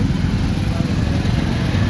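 Road traffic in Pune during the Ganesh festival, with a continuous low rumble of cars and motorbikes passing on a crowded street, loud and steady throughout.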